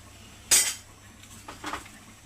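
A metal lid set onto a cooking pot of greens in a home kitchen, with one loud close clank followed a second later by a softer rattling clink, then quiet.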